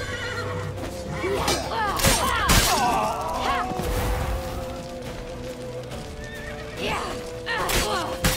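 A horse in The Witcher 3 gives loud, shrill neighs and whinnies amid galloping hoof clatter and thuds during a frantic rescue chase, close up, with shouted voices mixed in.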